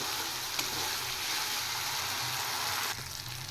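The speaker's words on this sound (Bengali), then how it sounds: "মশলাটা ফ্রাই হয়ে গেছে" Spice paste (masala) with tomato fries steadily in oil for a Bengali fish curry, giving a continuous, close, dense sizzle that holds for a few seconds before easing slightly near the end.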